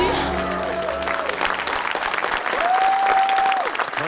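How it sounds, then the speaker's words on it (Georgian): Audience applause at a performance, dense sustained clapping from a crowd with a couple of sustained tones drifting over it. "აპლოდისმენტების თანხლებით ხდება ეს"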